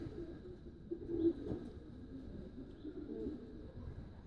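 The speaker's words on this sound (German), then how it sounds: "Die Tauben laufen hier über eine Hühnerleiter nach oben." Faint, low homing pigeon coos murmur softly in a breeding aviary, a brief soft burst standing out amid the gentle background hum.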